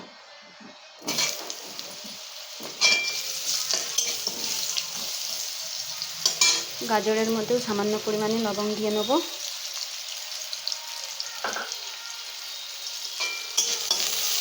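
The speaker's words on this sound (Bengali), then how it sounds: "নেড়ে চেড়ে ভালো করে ভেজে নেব।" Carrots are stirred and fried in a pan, giving a close, crackling sizzle broken by scraping strokes. A voice talks over the cooking in places.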